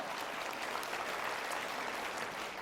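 Steady applause from an audience at a company presentation event, a continuous dense patter of clapping with no voices.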